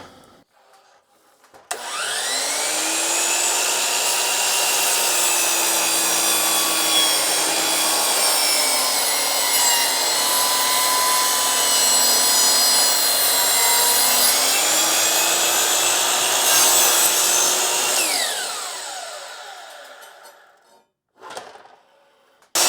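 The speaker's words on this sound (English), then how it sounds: "Now I'm going to do the sides on the miter saw." A miter saw cuts the wooden side pieces of a floating shelf, spinning up sharply, then grinding through the board with a loud, sustained whining buzz for about sixteen seconds before winding down to quiet.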